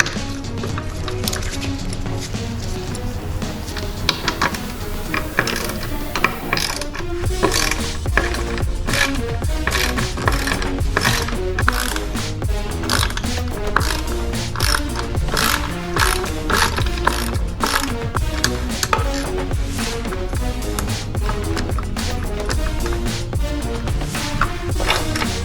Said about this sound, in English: we're just going to use a T30 and just loosen this entire